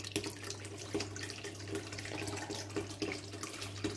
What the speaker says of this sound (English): Now I am going to switch on the pump.